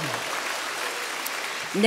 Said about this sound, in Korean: 우리가 박수로 환영합시다.